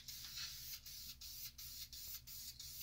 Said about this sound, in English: Now, I'm not familiar with the fabric spray stuff. Is it supposed to spray out weird like that?